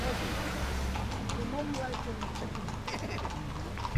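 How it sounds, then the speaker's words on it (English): Rhythmic clip-clop of horse hooves at a moderate distance, with voices talking and background noise throughout. "I hear a horse. I see a horse."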